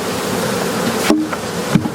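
Honey bees buzzing around an opened hive during a spring inspection, a dense close hum with a couple of short knocks and sharp bursts of nearby wingbeats.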